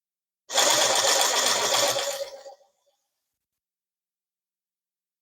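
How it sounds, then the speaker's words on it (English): An Axial Gilamon RC truck's drivetrain whirs in a loud, steady gear whine for about two seconds, then cuts off abruptly into silence. "All you hear is drivetrain."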